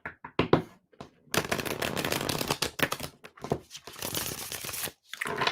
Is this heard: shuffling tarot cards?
yes